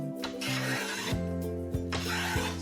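Hand plane shaving down ebony on a snooker cue, giving a steady rasping scrape with repeated strokes and a faint hum underneath, quiet and close.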